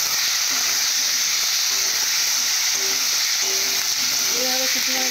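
Fried potatoes sautéing with banana flower curry in a hot pan, a loud continuous sizzle and hiss close by, with a few faint tonal squeaks and spatula scrapes near the end.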